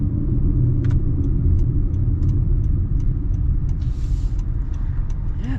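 Inside a moving 2025 Honda CR-V or Subaru Forester, a steady loud low road rumble and engine drone fill the cabin, with faint regular ticks above it and no talk.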